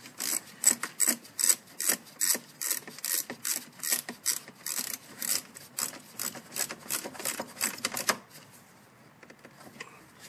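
A ratchet snugs down the throttle body bolts on a Ford Focus or Escape four-cylinder engine: a run of quick, close clicking strokes in steady bursts for about eight seconds, then it stops and only faint handling noise remains.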